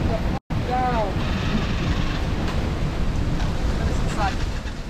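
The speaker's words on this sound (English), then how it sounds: "Gusting, wet, wind coming from the wrong direction." Strong, gusting wind roars and buffets steadily over open sea around a sailboat, with faint creaks and a brief dropout near the start.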